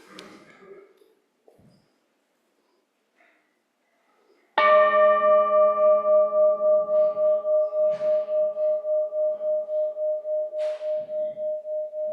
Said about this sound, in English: as we ring our bell, let the sound connect us